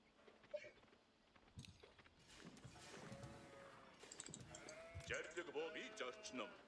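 Sheep bleating in the Age of Empires IV real-time strategy game, several short bleats over a busy backdrop of game effects, with a voice talking throughout.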